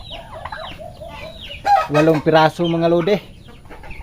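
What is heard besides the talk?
turkey chicks on a banana farm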